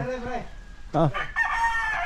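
A rooster crows loudly near a backyard farm in Ibaan, Batangas, with further crowing and clucking from the flock following, while a voice speaks briefly in between.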